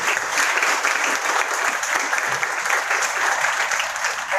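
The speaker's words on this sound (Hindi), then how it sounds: "एक बार जोरदार तालियां बजाएंगे।" A university faculty audience at an Indian student's selection celebration claps loudly and evenly throughout, a dense, close applause with no talk over it.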